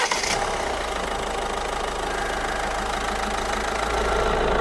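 A 1.6 HDI 8v diesel car engine idles steadily with a low, continuous rumble and a rattling hum, close and unchanging throughout, after a repair to vibrations at the air filter box.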